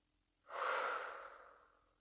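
A single slow, relaxed breath in a sophrology relaxation session: a soft, close airy exhale that swells quickly, then fades gradually over about a second and a half, alone in a quiet room.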